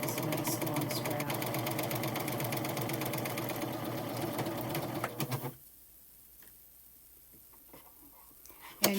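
An Admire Air 7000 cover-stitch machine sews a long strap with a strap and belt loop foot, running steadily and close for about five seconds before stopping, leaving a quiet room with faint handling noises.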